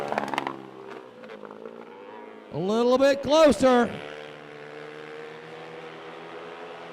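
Four-stroke racing quad engine at a bikes-and-quads race, a rising and falling harmonic whine that swells loud in the middle as the machine passes close, with an announcer talking throughout.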